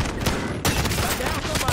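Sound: gunfire in a video game

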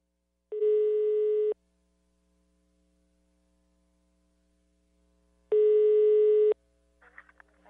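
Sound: telephone ringing tone while calling a number

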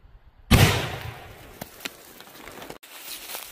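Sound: rifle shot with 123 grain Hornady Interlock bullet hitting jug

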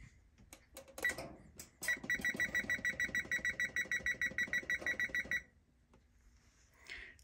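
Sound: oven timer being set, beeping

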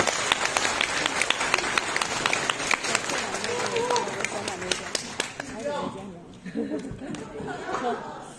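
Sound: audience applause

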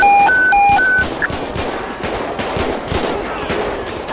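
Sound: gunfire in the GTA video game

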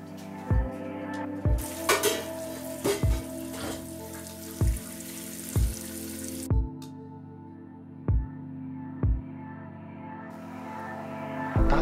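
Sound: diced bacon frying in oil

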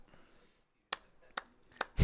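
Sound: hand clapping

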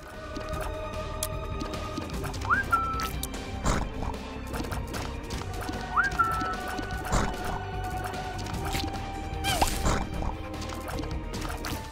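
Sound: enemy whistle warning sound in video game The Binding of Isaac: Rebirth

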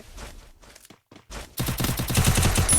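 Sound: UMP gunfire in Free Fire video game

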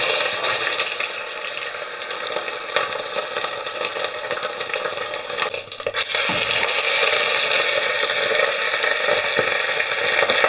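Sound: beef shank searing in hot oil in a pot

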